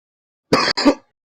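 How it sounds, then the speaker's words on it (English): A single close cough in two quick bursts, loud and dry, heard alone against silence during a Grand Theft Auto-style story mission tournament stream. "I apologize for the cough."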